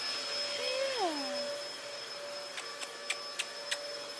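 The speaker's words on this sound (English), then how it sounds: "Is the vacuum fun?" A household vacuum cleaner runs with a steady, close hum and a thin whine. A sliding tone sweeps through early on, and a few sharp clicks or taps land near the end.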